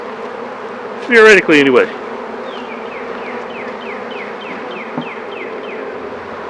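Honey bees hum steadily around an open hive during an inspection. The low drone runs throughout, close and constant, while someone speaks briefly over it.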